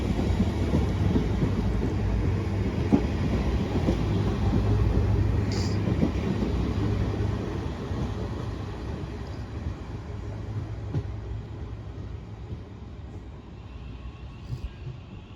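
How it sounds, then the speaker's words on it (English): A train departing a station on the North Staffordshire line rumbles steadily nearby, a low continuous roar with faint rattling that slowly eases as it pulls away. "Off goes my train."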